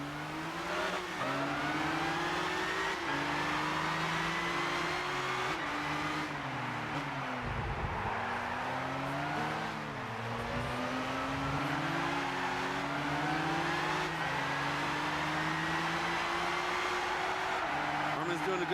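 Race cars in Gran Turismo 6 rev through repeated upshifts, their engine tones climbing and dropping in a steady sawtooth pattern, with a couple of low thumps and a voice talking over the racing.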